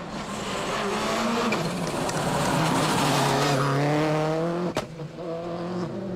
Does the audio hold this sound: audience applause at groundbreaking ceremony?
no